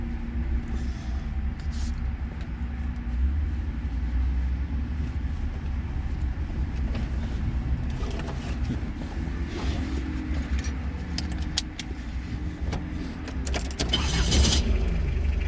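A diesel Chevette engine starts and settles into a steady low rumbling idle, continuous and fairly close, with some clatter and jingling over the top and no talk.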